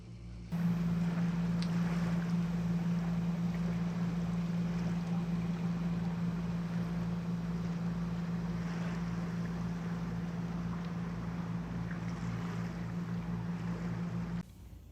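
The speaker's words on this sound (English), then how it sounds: "We've gone through some slushy patches, which you can hear on the hull." A boat's engine drones steadily while the hull churns through slushy ice near a glacier in Alaska, with a continuous wash and scraping hiss and no voices.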